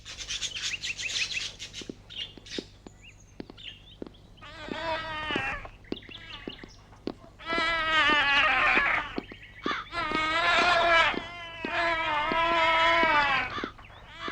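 Several cats meow in a series of drawn-out, wavering cries, some overlapping and growing louder toward the end, with scraping and rustling between calls, heard close.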